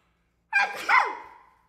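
A single short sneeze, sharp and close, with a brief breathy tail trailing off; no talking.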